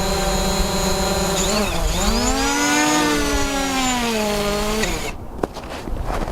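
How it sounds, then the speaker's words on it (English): A DJI Mavic Pro drone's motors whine loudly in extreme cold, pitch dipping then climbing and holding in a steady high rev before cutting off abruptly, leaving quiet with a small knock. "You hear the engines really revving it up."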